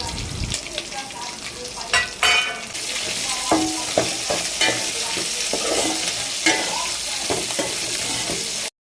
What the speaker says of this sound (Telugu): అందులోనే పచ్చిమిర్చి, కరివేపాకు వేసి గోల్డెన్ బ్రౌన్ వచ్చేంత వరకు వేయించుకొని పక్కన పెట్టుకోవాలి